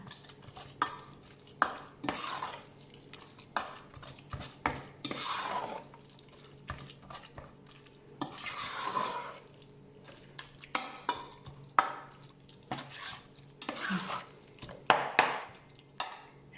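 A ladle presses and mashes fish meat in a mortar with curry paste, giving irregular close knocks and scrapes against the bowl, loud taps separated by quiet gaps, with no talking.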